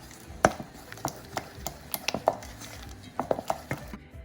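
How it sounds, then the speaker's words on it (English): Melted chocolate mixture stirred in a bowl with a utensil, giving a series of sharp scrapes and clinks against the sides at an uneven pace, close by. "I'm mixing it in the chocolate and just combine it"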